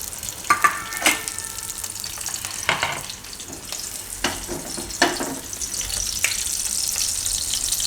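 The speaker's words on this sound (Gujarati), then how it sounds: "તો હવે આ ઘી છે એમાં આપણે આ લસણને મરચાં નાખી" Garlic and green chillies fry in ghee in a pan. A continuous close sizzle runs throughout, broken by several sharp scraping and stirring knocks. Nobody speaks.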